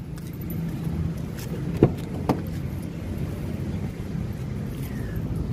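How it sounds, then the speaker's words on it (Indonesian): A 2011 Ford Fiesta 1.6 Sport automatic door unlatches with a couple of sharp clicks and a clunk over steady low background rumble, with a faint jingle of keys. "Nih, sekarang kita coba buka mobil. Kita buka mobil"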